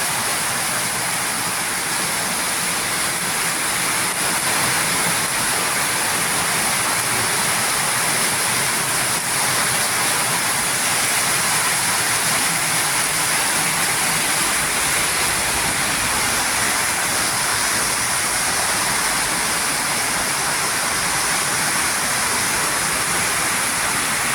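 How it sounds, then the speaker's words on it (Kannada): Heavy rain at a Shiva temple in Vadagara, Siddhantapura, a loud, dense, continuous roar of downpour that fills the whole stretch without letup and without voices. "ಭಾರಿ ದೊಡ್ಡ ಮಳೆ ಪ್ರಾರಂಭ ಆಗಿದೆ"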